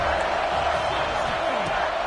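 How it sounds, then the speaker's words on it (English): A home crowd roars steadily at a football match in a video game, a dense, loud and unbroken wall of cheering from start to end. "how nice is it to have the home crowd going absolutely bananas?"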